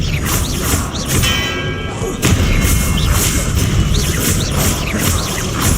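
Confringo blasting spell explosions in Hogwarts Legacy come as loud booming thuds over a busy combat soundscape, repeating several times.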